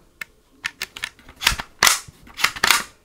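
An Airsoft FMG9 gun being handled and fired, giving sharp, close snapping cracks, some single and some in quick clusters, with mechanical clicks between them.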